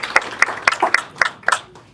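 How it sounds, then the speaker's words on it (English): Applause at an LA County Department of Human Services meeting, scattered hand claps landing about every quarter second, close and sparse, as if from only a few people. "So I think a round of applause for Shannon."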